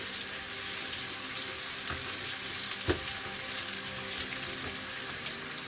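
Onion frying in a pan for a vegetable stir fry gives a steady, hissing sizzle, close and fairly quiet, with a soft knock partway through and no one speaking.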